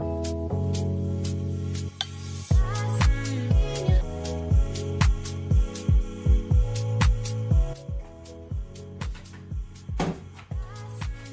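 Monport K40 laser cutter cutting birch plywood: a steady electrical hum with whining, pitched motor tones that shift as the head moves, punctuated by a regular series of short clicks and stops.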